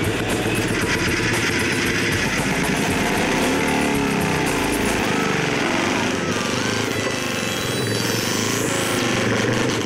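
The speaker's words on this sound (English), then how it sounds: "The Manx Norton remains the classic British racing bike, simple yet effective, and it still sounds brilliant." Classic Manx Norton British racing motorcycle engine at a track day event, loud and continuous with a rough, rapid mechanical rattle throughout, close by and dominating the scene.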